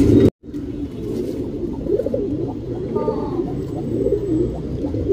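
A matched male and female Lal Cheeni pigeon pair coos in a low, rolling, repeated rhythm, close by and fairly soft, after a brief sharp knock at the start.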